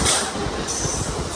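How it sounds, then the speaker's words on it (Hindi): A train pulling into a station, a loud, close rumble of wheels and carriages with steady rattling and a high hiss, without speech. "तो आ रहा है अब हमारा ट्रेन।"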